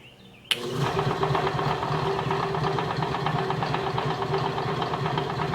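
A vintage Maytag washing machine motor kicks on abruptly and keeps running with a steady, loud mechanical hum and rhythmic rattle, close by and without talk.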